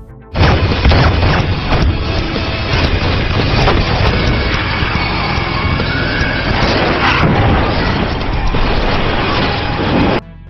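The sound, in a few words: gunfire in a film shootout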